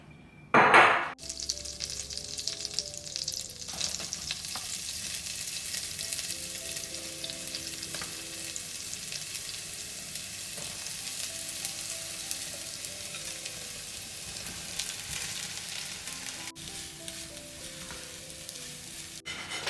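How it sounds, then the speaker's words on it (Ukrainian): Steady sizzle of dough frying in butter, with crackling pops throughout, fairly close, after a brief clatter at the start; no talking. "Так, тісто ми підготовили, зараз будемо смажити."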